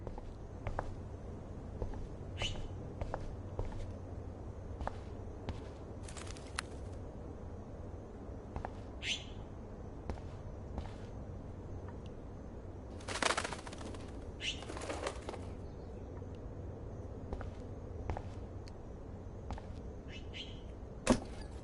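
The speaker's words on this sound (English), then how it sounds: "that poor little bird has been trapped in here." A trapped bird in the Life Is Strange video game gives faint scattered chirps and brief wing flutters over a quiet, low in-game room ambience, with a louder flapping burst midway.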